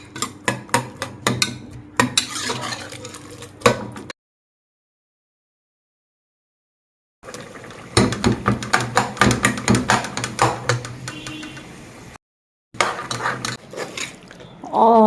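Black chickpeas frying in a pot, with repeated metallic scrapes and clinks of a spoon stirring in bursts, broken by a few seconds of silence.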